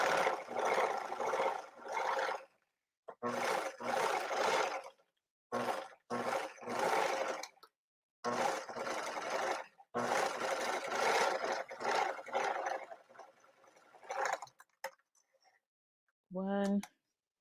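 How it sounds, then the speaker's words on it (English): A sewing machine zigzag stitches along the cut edge of circle skirt fabric in repeated loud, whirring runs separated by short pauses, with a voice briefly heard near the end. "So I just do a zigzag on the edge here on that cut."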